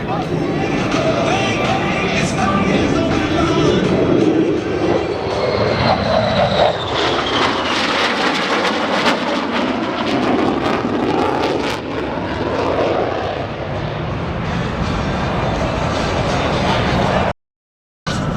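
An F-35A fighter jet roars loudly overhead at an airshow, its engine noise rising and sweeping in pitch as it passes, with a crowd faintly audible beneath.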